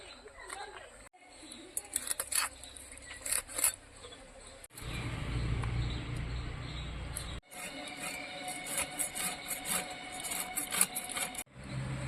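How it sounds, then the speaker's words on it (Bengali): Bhola fish being cut by hand in a home kitchen, with rasping, scraping strokes and rubbing in a steady series, plus a few knocks, heard fairly close and quiet. "তাহলে মাছগুলো কেটে নিই"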